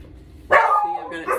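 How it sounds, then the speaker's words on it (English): Dogs barking inside a crate in a home kitchen, a sudden loud burst of barks that starts abruptly and keeps going, with a second sharp yelp near the end. "my dogs were barking. They were being so good in their crate, and all of a sudden they just took off barking"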